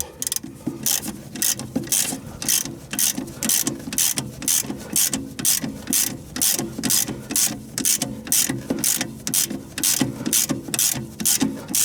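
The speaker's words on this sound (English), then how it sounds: "we can go ahead and tighten this bolt down now" A ratchet tightens a strut assembly bolt on a 30-year-old Honda Civic. It makes loud, close, rhythmic clicking, a long run of regular back-and-forth strokes with no talking.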